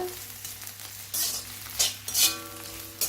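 Brinjal (eggplant) pieces frying in a hot pan on low flame, a steady close sizzle with several louder bursts of hissing and stirring scrapes, no talking.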